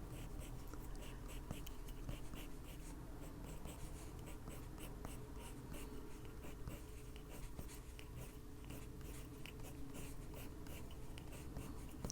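A colored pencil scratches quick, light downward strokes on paper to draw hair and whiskers, a close, quiet, steady rasp of repeated short strokes with no talk.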